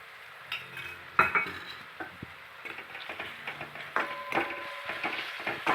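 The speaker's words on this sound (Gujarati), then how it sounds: "સરખી રીતે મિક્સ કરી લેવું" A spoon stirring sliced onion mixed with ginger, chili and garlic paste in a pan, with repeated close clinks and scrapes against the metal in an uneven rhythm.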